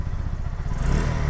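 A Bajaj Pulsar NS160 BS6 motorcycle engine runs steadily after a kick start, a close, continuous mid-pitched idle with a slight rhythmic clatter and no voices.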